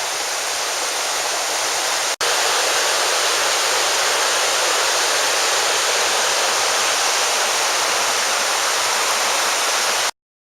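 A mountain creek runs along the Kephart Prong Trail in the Great Smoky Mountains, giving a loud, steady rushing hiss of flowing water that continues without pause except for a momentary dropout early on.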